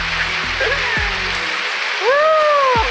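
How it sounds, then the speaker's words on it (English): Heavy rain falls outdoors as a steady, loud hiss that covers the whole moment, with a few brief voice-like sounds over it. "I'm watching the rain."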